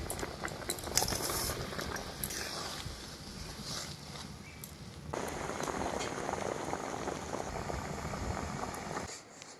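Milk tea boils in a pot in a home on a Sundarbans island, a steady close bubbling hiss with no talk.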